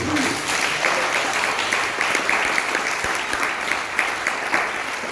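A church congregation claps in sustained, dense applause that carries on steadily throughout, loud and close, with no voices standing out.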